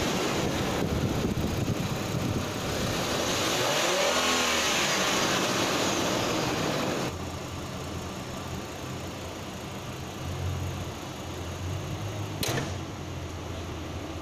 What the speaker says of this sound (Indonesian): Mari kita dengar suara mesinnya ketika digas pada RPM yang tinggi.